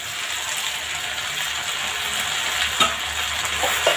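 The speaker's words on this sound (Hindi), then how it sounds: "टमाटर को ऐसे अच्छे से दबा दबा के फोड़ लेंगे" Cooked tomatoes are pressed and mashed in a hot pan, giving a steady, close sizzle with soft squelching and scraping and a couple of sharper clicks near the end.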